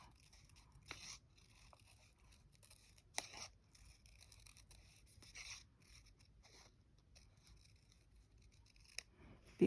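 Scissors snip through fabric for a folded kitty shopping bag, a sparse series of crisp, close cuts spaced a second or two apart over quiet background.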